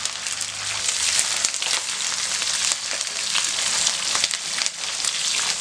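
Loud, crackling tempering of dried red chillies, garlic, curry leaves and shallots in hot oil, a dense steady hiss with sharp pops and spits scattered across the whole stretch.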